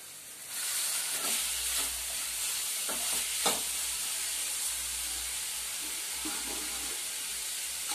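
Tomato and chopped coriander go into a hot frying pan, a steady hiss of sizzling with a few scraping stirs and clatters on top, fairly close and continuous throughout.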